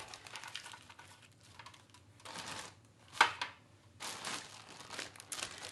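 Frozen peach slices are pried off a sheet of wax paper, giving several bursts of crinkling and crackling paper with one sharp snap near the middle, close and fairly quiet.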